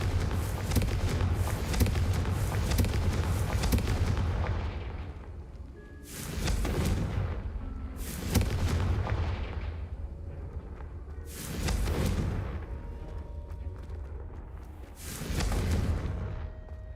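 Repeated Confringo blasting-spell explosions in Hogwarts Legacy, a long rumbling blast followed by four more bursting booms at irregular intervals, each swelling then tailing off.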